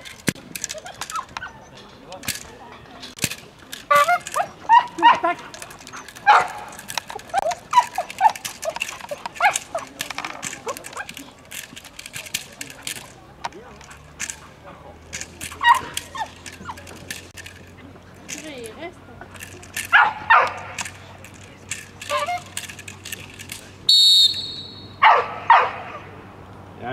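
A working dog barks repeatedly during a bite-work attack exercise at a sport dog trial, the barks loud and irregular across the field, with someone speaking French over them and a brief trumpet-like tone near the end.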